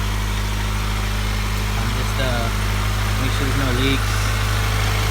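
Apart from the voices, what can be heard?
Honda Civic engine running at idle after tune-up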